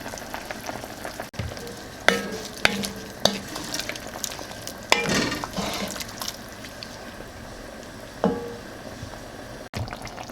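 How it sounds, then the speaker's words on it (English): A spoon stirs beef stew with its juices in a pot, making wet, sloshing swirls and scattered clacks and scrapes against the pot, with soft bubbling underneath and no talk. "Give it a stir."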